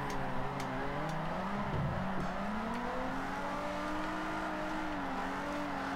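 A Datsun drift car in Forza Horizon 4 holds a high, droning engine note that rises and falls as it slides, with faint ticking clicks over the continuous whine.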